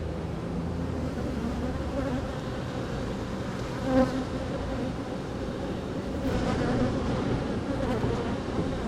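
A loud bee buzzes close to the ear beside a hive frame, a continuous droning hum with slight swells in intensity throughout.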